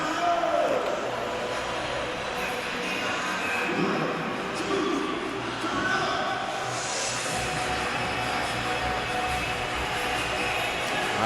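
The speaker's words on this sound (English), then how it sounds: "Listen to this crowd." An ice hockey arena crowd at an NPHL championship final between the Manotick Mariners and Tweed Oil Kings roars after a goal for a 5-1 lead, a continuous loud, rumbling cheer filling the whole stretch.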